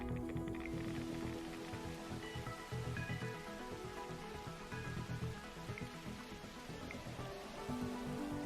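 Steady rain falls throughout in The Universim, a dense continuous patter of drops on surfaces mixed with game music tones, fairly loud and unbroken with no talking.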